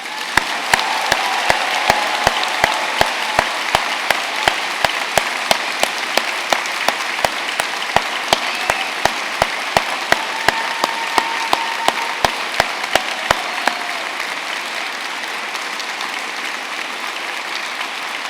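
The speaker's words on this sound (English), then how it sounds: "let's give them a huge round of applause" Sustained applause from families, friends and staff at a university degree ceremony in Newport, a loud, even roar of many hands lasting well over fifteen seconds, with a regular sharp clap standing out near the front.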